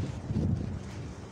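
Gusty wind in Kuwait during autumn sandstorm season buffets the microphone with a low, rumbling roar, close and fairly steady, with no talking.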